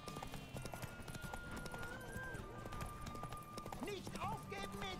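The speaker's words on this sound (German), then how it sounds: "Hier haben wir, glaube ich, jetzt nicht so viel Pferdeausdauer wie auf Plötze." A horse gallops in The Witcher 3, rapid hoofbeat clip-clop running steadily beneath spoken commentary and game music, with a brief whinny-like cry near the end.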